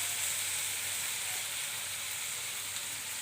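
Winged beans sautéing with soy sauce in a pan give a steady, even sizzle and hiss that stays close and constant, without talk.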